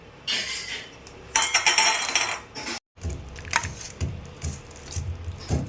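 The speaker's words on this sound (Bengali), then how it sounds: "এবার একটু নাড়িয়ে নিলাম" Jackfruit curry with prawns, ghee and garam masala stirred in a pan, uneven wooden scraping and clinking bursts with a short pause midway, close and without talk.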